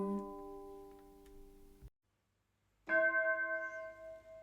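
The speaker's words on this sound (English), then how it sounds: "there's the bell" Two ringing bell tones, each sustained with a slowly fading tail. The first strike is cut off abruptly and followed by about a second of silence. The second strike comes in louder and pulses as it decays, with no voices over it.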